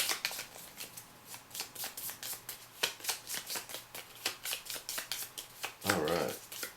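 A deck of cards is shuffled during a board game, giving a long run of rapid riffling and flicking card sounds, fairly close and steady, with a brief soft thump near the end.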